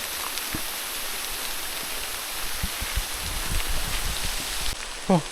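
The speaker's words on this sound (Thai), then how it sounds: "ฝนตก" Steady, dense hiss of rain falling throughout, with a few soft low thumps and a brief higher sound near the end.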